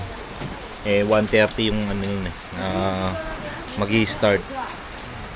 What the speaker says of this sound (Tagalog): Yun lang mga kano, inabutan kami ng ulan.